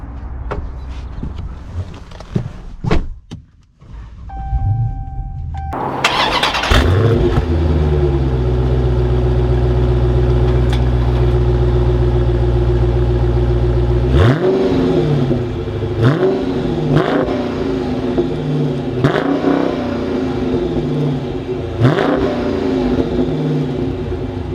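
A 2021 Dodge Challenger Scat Pack Widebody Shaker V8 cranks and fires up with a loud bark, settles into a rumbling idle, then gets blipped through a series of sharp, close revs.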